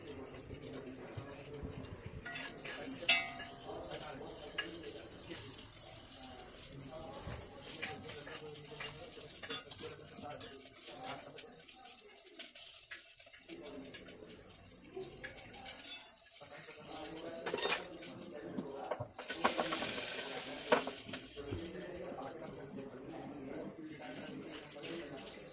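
Okra and onions frying in a pan at home, a continuous close sizzle with stirring scrapes and occasional clatter of utensils, moderately quiet, with a brief louder hiss near the end.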